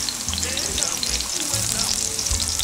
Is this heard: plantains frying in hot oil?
yes